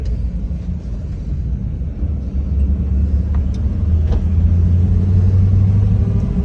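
A 1957 Chevy runs with a steady, low, smooth rumble heard from close by, gradually growing slightly louder with no talk over it.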